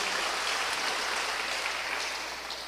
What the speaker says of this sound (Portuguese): Pode aplaudir ao Senhor também